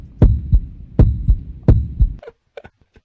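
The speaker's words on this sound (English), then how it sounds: "A heartbeat." A poker software timer plays a heartbeat effect: three loud, close lub-dub thumps at a steady beat, followed by a few faint clicks.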